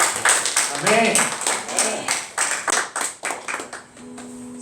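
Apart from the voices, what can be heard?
church congregation clapping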